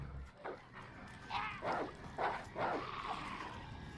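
Several dogs bark and yip in a video game, a handful of sharp barks spaced across a few seconds against a quiet background hum.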